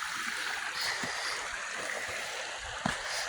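Stream water flows steadily past a river bank near an old iron furnace in Boiling Springs, Pennsylvania, a continuous close wash with a few soft splashes and no talking.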